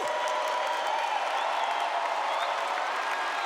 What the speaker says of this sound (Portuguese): Vamos aplaudir esse Deus maravilhoso.